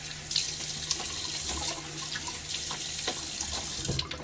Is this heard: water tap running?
yes